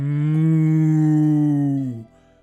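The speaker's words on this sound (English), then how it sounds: "proceeded to belt out the loudest moo you ever heard" A single loud, sustained cow moo rings out clearly for about two seconds, rich in harmonics, then cuts off abruptly, with no other sounds around it.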